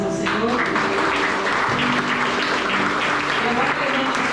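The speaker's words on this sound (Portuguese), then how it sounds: "Vamos dar uma salva de palmas ao Senhor." Church congregation applauding, a dense, steady wash of clapping held at an even level with faint voices mixed in throughout.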